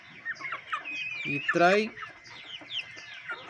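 Backyard chickens cluck and chirp steadily at close range, including a young pullet recovering from coryza, with a brief louder squawk midway and someone talking over the birds.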